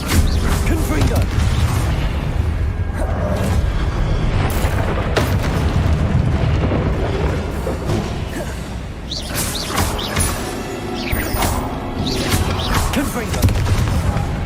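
Repeated fiery Confringo spell blasts from Hogwarts Legacy boom and crash through dense, loud combat noise, with several bursts landing over the span amid mechanical clatter.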